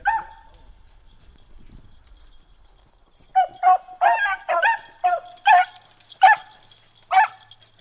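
Hunting dogs chasing a rabbit in the Michigan outdoors bark and yip in a quick burst of about nine sharp, close calls after a brief quiet start.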